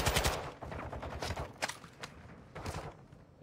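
A hard-to-control gun fires in Call of Duty: Modern Warfare II: several short, close automatic bursts with crisp cracks, separated by brief gaps, set against faint battlefield noise.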